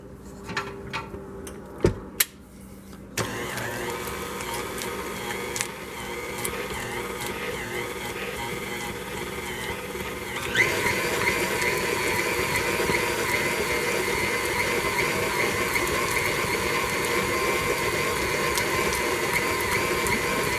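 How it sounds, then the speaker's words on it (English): Stand mixer working a small batch of dough with a dough hook: clicks and knocks at first, then a continuous geared motor hum that grows louder partway through and keeps running steadily. "Using this just a little bit of dough at a time, the machine can't always get it moving."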